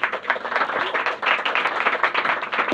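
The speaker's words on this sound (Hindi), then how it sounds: "क्या ताली बजाएंगे दाऊद के लिए?" A church congregation at a Hindi-language Christian sermon claps together in a fast, dense, continuous patter that stays loud and even throughout, with no voices over it.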